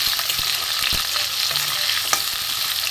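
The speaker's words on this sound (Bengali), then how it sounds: "আলুটা একটু ভেজে দিই ভালো করে" Potatoes fry in mustard oil in a kadai, a dense steady sizzle with a few sharp crackles and scraping stirs, close and continuous without talk.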